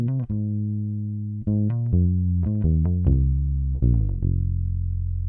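Dry bass guitar with no effects, played as a run of separate sustained notes with clean attacks, loud and close, with no voice over it.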